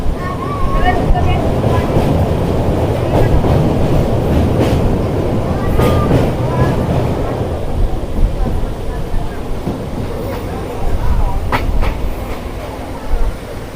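A small three-coach Najibabad–Kotdwar passenger train rolls along near Kotdwar, heard from on board as a loud, continuous rumble with steady rattling and clacking throughout.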